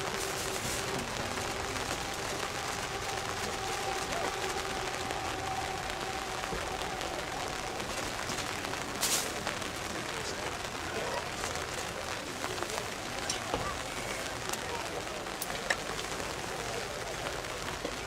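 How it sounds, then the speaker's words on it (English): Steady rain falls at an outdoor high school commencement ceremony, a dense, even hiss with light patter throughout, carrying no speech. "the rain did try to hold off for us, but unfortunately it came at the end."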